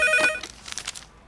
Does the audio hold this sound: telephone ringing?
yes